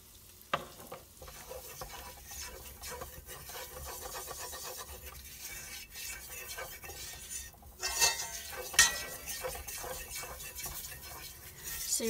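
Flour is stirred into sausage grease in a frying pan for gravy: a continuous soft rasping scrape of spoon on pan with a faint sizzle, quiet and close, with a few louder scrapes near the end.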